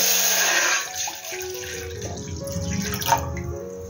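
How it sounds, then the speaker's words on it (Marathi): Water runs and splashes as a measured vessel of water is poured into a cooking pot, a bright rushing pour at the start that eases into softer trickling and sloshing. "पण हे मी 1 भांडं पाणी घेतलं."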